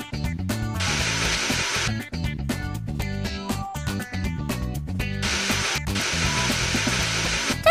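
A whirring, drill-like tool noise from a video game repair with a spanner on a broken mechanism, loud and continuous under dense game music, with brief hissing surges near the start and end.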